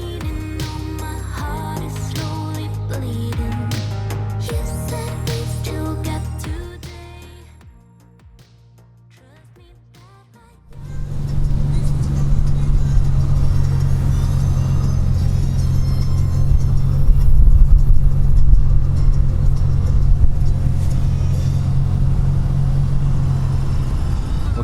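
A car speeds along the road from Cali to Medellin in Colombia; a few seconds of music fade out, then a loud, steady road rumble and engine drone fill the cabin with no talk.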